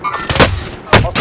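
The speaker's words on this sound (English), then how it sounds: "Hostiles taking shots" Gunfire from hostile enemies in Call of Duty, a few loud close bursts of shots with short gaps between them, sharp broadband cracks with a low rumbling tail.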